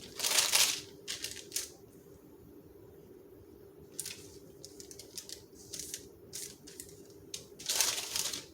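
Knife or cutter trimming sheets of fresh ravioli dough with a meat filling, scattered crisp cutting and scraping bursts with quiet gaps between, close and fairly soft.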